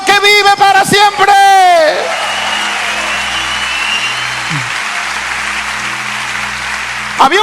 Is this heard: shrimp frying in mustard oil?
no